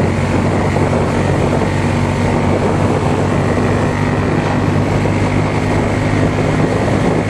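A Triumph Bonneville T120 Black motorcycle pulls hard at high speed in fourth gear, a loud, steady engine roar mixed with heavy wind rush that stays constant and close throughout, with no talk.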